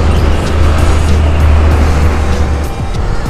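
Cars drive along a narrow road, heard from a motorcycle as a loud, continuous engine and road roar with traffic noise close by and no talk.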